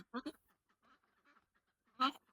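A few faint duck quacks come in short bursts with quiet gaps, the last one louder and nearer.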